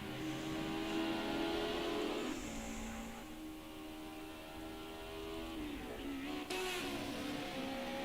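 Racing video game car engine in an esports qualifier, droning and revving steadily with shifting pitch for the whole stretch, loud and continuous, with a brief sharp burst near the end as a car sits stuck against a wall.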